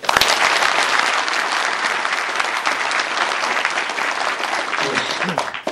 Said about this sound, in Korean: 우리 스스로 저 박수 한번 치십시오